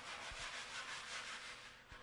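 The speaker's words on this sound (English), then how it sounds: "Sand down with a coarse-grained glass paper." Rough, steady scratching of coarse-grained glass paper rubbed back and forth over painted timber, close up with no voices.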